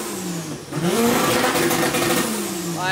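A car engine revving as it warms up before a drift competition, rising from idle to a sustained, loud, close roar with steady pitch sweeps; a voice briefly speaks.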